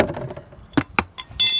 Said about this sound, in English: And then now we want to take that 17mm and loosen